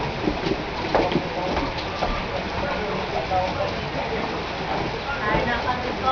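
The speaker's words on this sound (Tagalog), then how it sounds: "Ulan." Steady rain hisses evenly around a family home as children head off to school, a dense wash of noise with faint background voices underneath.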